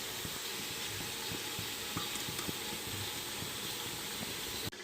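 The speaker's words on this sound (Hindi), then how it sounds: "ग्रेवी ऐड करके अब हम इसे अच्छे से चिकन के साथ फ्राई कर लेंगे" Chicken frying in a pan with freshly added spiced gravy, a soft steady sizzle and hiss with small stirring scrapes and clicks, faint and close, no voices.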